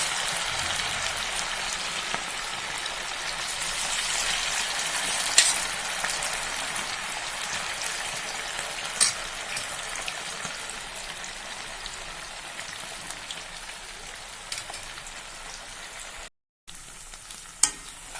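Cauliflower pieces for gobi 65 deep frying in oil: a dense, steady crackling sizzle close by, with occasional sharper pops and a momentary dropout near the end.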